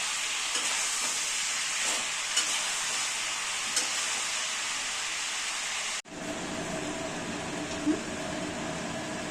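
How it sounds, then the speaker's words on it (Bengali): Continuous close sizzling of chicken frying in a pan with ginger garlic paste, with a few scraping stirs and a brief break before the hissing resumes. "আদা রসুনের পেস্টটা দিয়ে এবার মাংসের সাথে মেশাবো এবং একটু ভাজা ভাজা করবো"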